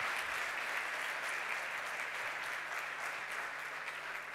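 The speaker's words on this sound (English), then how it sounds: "A big round of applause for Hamza" Steady applause from a seated audience at a 2019 startup pitch event, dense broadband clapping holding evenly throughout with no voices on top.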